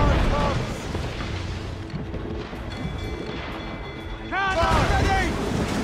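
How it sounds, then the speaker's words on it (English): Mortar fire in the Assassin's Creed Rogue naval game, deep booms and blasts over a rumbling sea battle, with shouting voices and sustained heavy noise. "They're firing mortars!"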